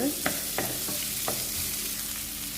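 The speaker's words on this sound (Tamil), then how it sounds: "இந்த ஆனியன் நம்ம நல்லா வதக்கிக்கலாம்." Onions sautéing in a pan for a spinach sambar, a soft steady sizzle broken by a few sharp scraping stirs of a spoon, close and fairly quiet with no talking.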